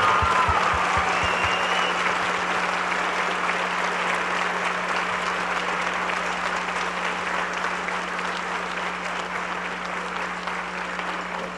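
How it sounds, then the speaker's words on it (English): An audience at a 2012 Play 4 Kay ceremony gives a round of applause for a doctor, broad sustained clapping from many people that stays steady and fades gently toward the end. "I would like a quick round of applause for Dr."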